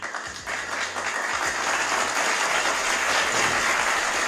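A streamer clapping hands in a steady, dense run of claps that sounds like applause, loud and close against a background hiss, with no speech.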